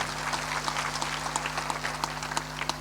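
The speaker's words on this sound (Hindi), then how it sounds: "ताली बजा दो इनके सम्मान में" An audience at a live religious satsang gathering in Soyatkala, Agar Malwa, Madhya Pradesh claps together in steady, brisk applause, with a low constant hum underneath.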